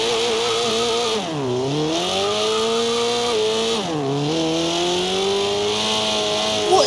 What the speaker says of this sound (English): this engine swap sounds so annoying in Forza Horizon 2